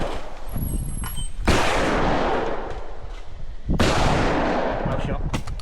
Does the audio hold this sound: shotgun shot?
yes